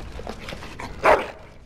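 A single dog bark from Dragon Age: Origins rings out once near the middle, loud and close, over a quiet game background.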